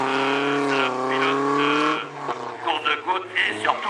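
A BMW race car pulls away at the start, its engine droning loud and steady before breaking into rising revs and gear changes, with a voice commentating over it.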